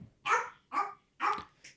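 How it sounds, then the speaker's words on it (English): A small dog barking four times in a close, evenly spaced series, each bark short and sharp with brief silences between them. "if you pick him up, he stops barking"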